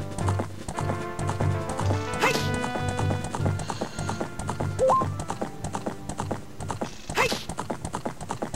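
Horse hooves clip-clop at a steady gallop over Zelda: Ocarina of Time's game music, with a couple of loud whinnies cutting in near the start and again toward the end.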